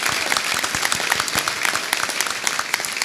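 An audience at a panel event applauds steadily, dense, close clapping filling the room without pause for a few seconds.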